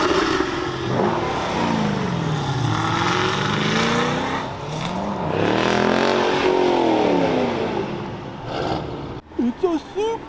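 A Toyota Supra's engine revs and roars at a car show with exotics and muscle cars, rising and falling in pitch as it accelerates, loud and nearby, with crowd voices underneath and a brief burst of chatter at the end.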